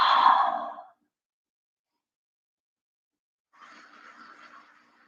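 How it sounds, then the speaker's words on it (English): Deep exhale during a yoga flow, a loud breathy sigh at the start followed by quiet and then a softer, longer breath near the end. "Deep breaths here."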